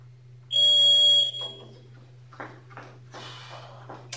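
A workout timer beeps during a dumbbell lower-body warm-up: one loud, sustained electronic tone, then quieter shuffling and movement noises nearby.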